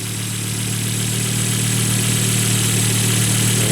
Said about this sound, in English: now we'll just start up the car, listen to it